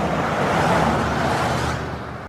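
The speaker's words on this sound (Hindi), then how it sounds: "वाहनों के चलने की ध्वनियां" Steady roar of road traffic with vehicles rumbling past, a continuous broadband wash of engine and tire noise with no voices.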